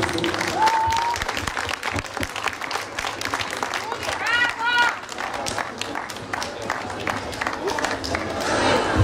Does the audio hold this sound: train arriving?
no